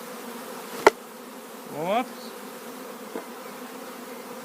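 Honeybees buzz around a beehive, with one sharp buzz swelling close by and fading, a click before it and a faint one after, over a quiet hum. A short spoken word is heard.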